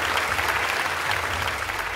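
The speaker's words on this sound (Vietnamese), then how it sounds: "Một tràng pháo tay cho Huy Hoàng." A studio audience applauds on a televised Vietnamese quiz show, a steady wash of clapping that holds at an even, fairly loud level throughout with no voices over it.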